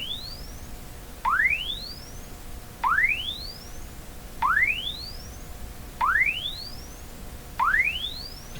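Repeated audio test-tone sweeps gliding upward to 10 kilohertz, played through the audio circuit of an RCA Victor Model 911KG radio; five clean rising chirps spaced about one and a half seconds apart over a faint background hum.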